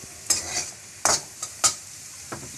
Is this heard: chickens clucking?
no